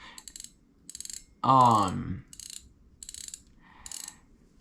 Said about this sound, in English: They didn't really improve on the drag sound that much.